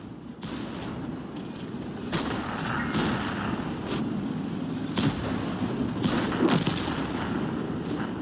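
Booming tank cannon shots from the video game World of Tanks, several heavy blasts spaced a second or two apart over a rumbling engine bed, fairly loud.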